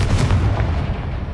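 A Confringo fire spell goes off in Hogwarts Legacy, a single heavy booming blast that rolls out and fades over about a second, with no talking.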